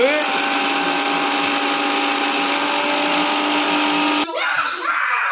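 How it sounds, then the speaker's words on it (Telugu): A mixer grinder switched to a higher speed whines loudly at a high, steady pitch, then cuts off abruptly; afterward people talk and laugh in the quieter room. "ఇంకో స్టెప్ పెంచమ్మా, మరి దారుణంగా వస్తుంది సౌండ్."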